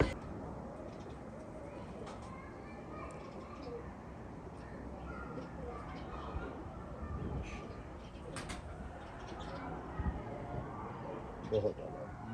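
Teddy pigeons cooing on a rooftop, the soft low calls faint and steady beneath someone talking throughout, with occasional brief sharper bird sounds.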